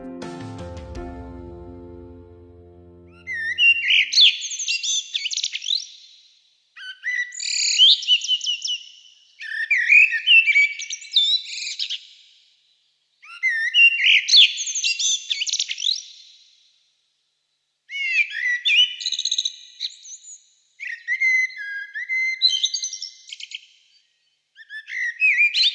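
A British songbird sings a calm, melodic series of about eight bright, varied whistled phrases separated by short pauses, clear and fairly close, after a brief low rumble at the start.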